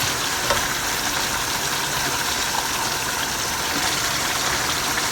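Frozen tomatoes hit a hot pan of browned rabbit, setting off a loud, dense, continuous sizzle and hiss that stays close and steady throughout.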